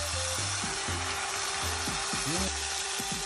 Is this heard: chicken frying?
yes